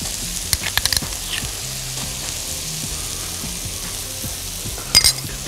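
Sauce poured into a hot frying pan with mushrooms sends up a steady, close sizzle and hiss, broken by a few light clinks of a utensil against the pan near the start and end.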